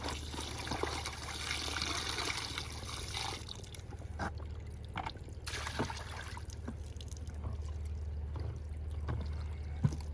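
Water poured from a bucket after washing clothes on a hike near Crater Lake National Park, a steady splashing gush at first that thins into trickles and drips, close and faint, with no talking.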